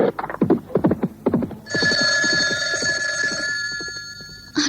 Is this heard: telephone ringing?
yes